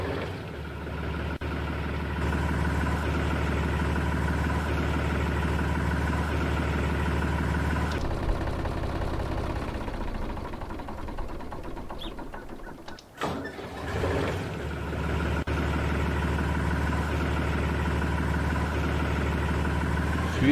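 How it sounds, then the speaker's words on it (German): A Deutz DX 310 tractor engine in Landwirtschafts-Simulator 19 idles with a steady low rumble throughout, briefly cutting and changing tone midway before the even idle returns. "So, Motor lassen wir mal an."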